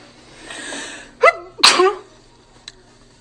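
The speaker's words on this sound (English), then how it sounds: "I just sneezed." A single loud, close sneeze with a short sharp inhale just before it, then quiet with a faint click afterward.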